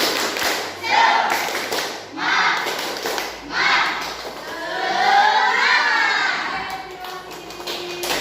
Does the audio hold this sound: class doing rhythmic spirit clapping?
yes